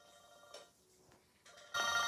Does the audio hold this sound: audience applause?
no